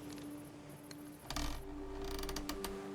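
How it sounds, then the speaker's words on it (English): Wooden timbers of a ship at sea in a Minecraft cinematic creak and ratchet, with a steady tone underneath, scattered clicks, and a louder grinding creak midway followed by rattling creaks. No voices. "The timbers creak under the endless rhythm of the sea"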